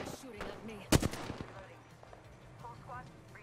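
A single sharp weapon blast cracks close and loud in an Apex Legends match, followed by a few quieter pops and lighter game effects, with players talking softly around it.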